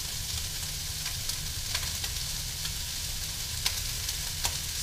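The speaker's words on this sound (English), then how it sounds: "So add the carrot first and stir just about 30 seconds." Carrot and baby corn stir-fry in a hot pan, giving a continuous close sizzle broken by light scraping and tapping from stirring.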